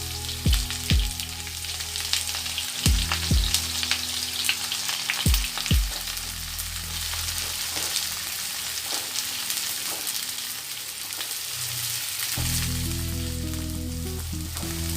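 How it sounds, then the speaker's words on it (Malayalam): Three large sliced onions dropped into hot leftover oil in a pan for Lucknowi mutton dum biryani, giving a loud, steady crackling sizzle close by, with a few sharp thuds and clinks early on and no talking. "ഈ ബാക്കിയുള്ള ഓയിലിലേക്ക് മൂന്ന് വലിയ സവാള മൂന്ന് വലിയ ഉള്ളി സ്ലൈസായി അരിഞ്ഞതാണ് അത് ചേർത്ത് കൊടുക്കാം"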